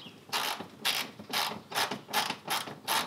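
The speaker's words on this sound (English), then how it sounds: "There is a screw right here that you have to take off. It's a Phillips." A Phillips screw is backed out of a 9th-generation Honda Accord bumper with a ratcheting driver, producing about seven evenly spaced bursts of close mechanical clicking separated by short pauses.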